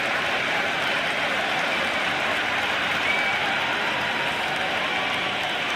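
Dense, steady applause and cheering from a packed cricket crowd at an India versus England T20 match after a six, an unbroken roar with no pauses.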